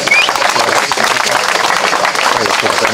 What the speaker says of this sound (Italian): Applauso, ragazzi.